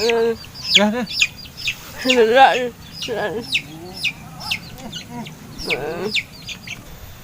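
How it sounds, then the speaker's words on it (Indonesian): Chickens cluck and squawk in repeated bursts, fairly close, with people talking in Sundanese in between the calls. "Iya, ayam orang ieu."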